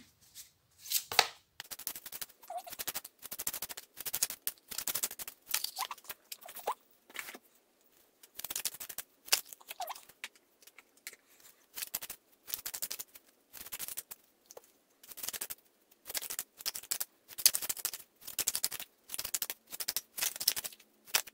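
Playing cards shuffled repeatedly for a card reading, a long run of crisp riffling bursts in quick rhythmic clusters with short pauses between them, close up and fairly loud, with no speech.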